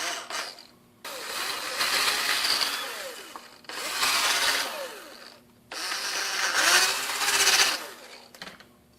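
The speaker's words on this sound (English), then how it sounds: "take a drill bit bigger than what you need and just open the hole up a little bit" A power drill whirs in three long bursts separated by brief pauses, its pitch rising and falling as an oversized bit opens up and countersinks a hole in a DIY oil catch can, loud and close.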